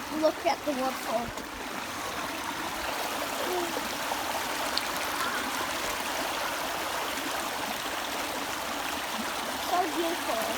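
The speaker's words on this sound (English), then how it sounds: "I'm gonna also look at the waterfall." A stream and waterfall on a hike give a steady, broad rushing wash of water throughout, with voices briefly heard at the start.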